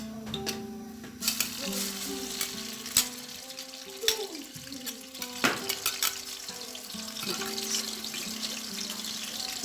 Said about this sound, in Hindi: ये मैंने लहसुन अदरक पेस्ट डाल दिया है गरम ऑयल में।